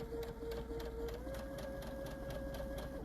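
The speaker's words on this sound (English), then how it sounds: "So let me go ahead and start stitching." A sewing machine stitches a quilt seam at a quarter-inch allowance, giving a steady close mechanical whir with a rapid, even needle clatter and a faint tonal motor hum throughout, with no voices.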